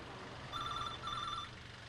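A telephone bell rings in two short electronic bursts with a brief gap between them, clear over a low steady background hum.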